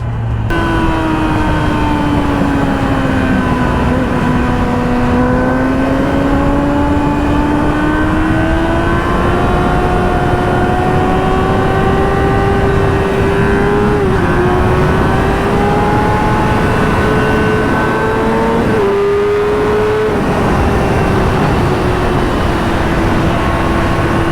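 A loud motorcycle engine revs steadily and continuously during a burnout, its pitch climbing and dipping, roaring close by with no pauses.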